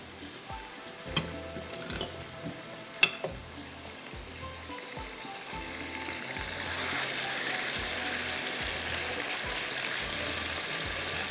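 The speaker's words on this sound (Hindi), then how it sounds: "अब इसको मैं हाई फ्लेम पे करूँगी फ्राई, तेज़ आग पर इसको भूनना है।" Reshmi chicken frying in a pan on high flame, with a few clinks of utensils early on, then a steady hissing sizzle that grows louder and denser toward the end.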